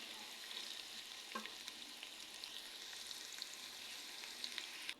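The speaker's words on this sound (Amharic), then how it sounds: "ምንም አይነት ውሃ ሳናደርግ እንጠብሰዋለን።" Onions frying in a pot with no water added, a steady close sizzle with occasional stirring scrapes and soft pops, continuous and fairly loud without any talk.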